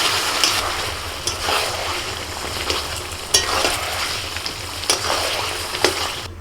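Chicken stirred in a pan as it cooks in its own released juices, a continuous close sizzle with repeated scraping strokes and light clatter at intervals.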